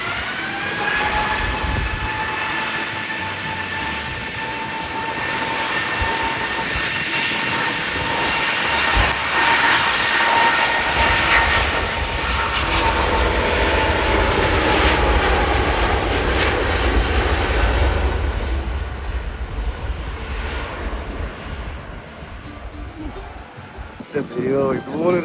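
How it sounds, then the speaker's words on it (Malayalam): A Virgin Atlantic airliner takes off from an airport with a loud, steady jet engine roar that swells and holds for most of the stretch, then eases slightly near the end. "അവിടെ ഒരു വെർജിൻ അറ്റ്ലാന്റിക് ടേക്ക് ഓഫ് ചെയ്യാൻ വേണ്ടി പോവാണ്"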